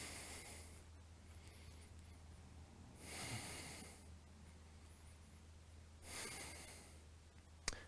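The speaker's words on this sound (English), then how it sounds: "Keep your breathing long and smooth here." Slow, long breaths during a yoga pose in a vinyasa flow, three soft airy breath sounds spaced a few seconds apart, close and quiet over a low background hum, with no talking.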